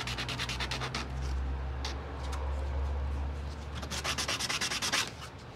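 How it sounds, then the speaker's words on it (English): Belt grinder shaping a wooden handle for a small rock garden project, a steady loud abrasive rasp with rhythmic surging passes toward the end, no talk. "I run from the end of the handle to the belt grinder."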